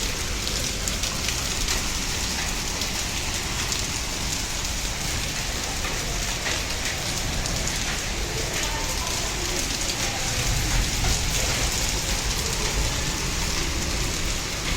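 Steady rainfall pours onto surfaces, a dense continuous hiss with close patter that holds at an even, loud level throughout, and a faint low rumble swells near the end.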